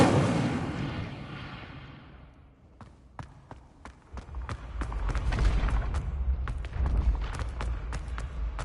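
A fire spell is cast in Hogwarts Legacy, a loud roaring whoosh that fades over about two seconds and is then followed by a string of sharp crackling pops over a low rumble.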